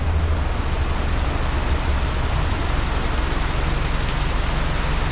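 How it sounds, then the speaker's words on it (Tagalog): Heavy rain pours steadily onto a garage, a dense, loud, unbroken hiss with a low rumble and no pauses. "Ang lakas ng ulan."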